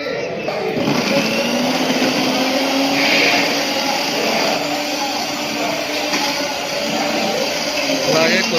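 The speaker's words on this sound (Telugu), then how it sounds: "వాటర్ని అయితే యాడ్ చేసుకుంటూ మిక్సీ అయితే పట్టుకోవాలి" Mixer grinder blending a coconut, tomato and peanut chutney in a jar with a little water, running as a loud continuous motor whir that hums steadily throughout.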